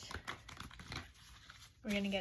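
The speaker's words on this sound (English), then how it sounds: "So I'm gonna shuffle the cards" Tarot cards being shuffled, a brief crisp riffle and rustle bursting in near the end after a stretch of soft talking.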